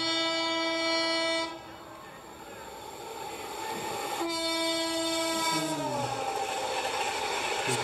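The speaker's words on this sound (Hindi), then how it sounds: "दिल्ली भोपाल एक्सप्रेस 150 किलोमीटर है यार, बहुत तेज़ है।" A Delhi–Bhopal express train running at about 150 km/h sounds a long, loud horn twice between stretches of rushing wheel and carriage noise, then rumbles on with a falling tone as it passes close by.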